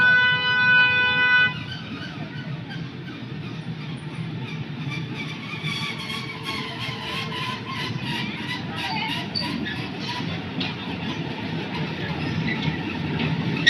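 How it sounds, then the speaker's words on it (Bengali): A Bangladesh Railway mini train runs along the rail line at a park in Kulaura, giving a steady, broad rumble that holds for the whole stretch after a brief, brighter opening. "এখানে এই রেল লাইন, ওই যে আবার ট্রেন আসতেছে।"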